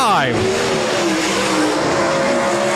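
360 sprint cars race around the Rapid Speedway track, engines roaring loud and close with a rising then falling pass-by whine, while a race announcer talks over the noise.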